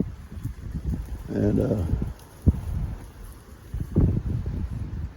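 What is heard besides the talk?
wind blowing outdoors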